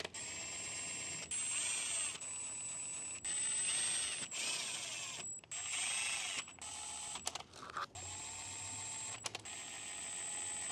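A power tool driving transmission pan screws on a BMW ZF 6HP26 gearbox, a high-pitched electric whine running in repeated short bursts with brief stops between screws, close and steady.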